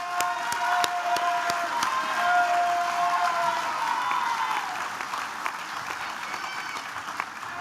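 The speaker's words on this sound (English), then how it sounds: "Can we have a final round of applause for Beautician Level 4?" A graduation audience gives a sustained round of applause for beautician graduates, dense clapping from a large crowd that holds steady and then slowly thins toward the end.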